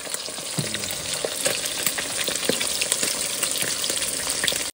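Fish frying in hot oil in a home kitchen, a steady loud sizzle with occasional stirring scrapes throughout.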